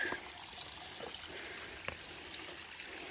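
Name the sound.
stream water trickling on hiking trail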